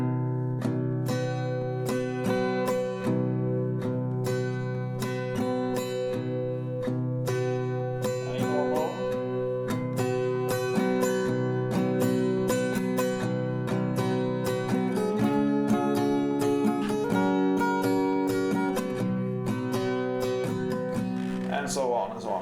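Acoustic guitar strums the chorus of a song at a slowed tempo in a down, down, up, down, up pattern, ringing chords played close and steady for the whole stretch without any voice over them.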